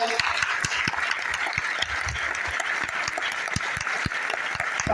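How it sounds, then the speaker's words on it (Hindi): An audience at a network marketing business seminar in India claps steadily and continuously, a dense patter of many hands that stays fairly even throughout, with faint voices mixed underneath. "अब जो लोग ताली भी ढंग से नहीं बजा पा रहे हैं"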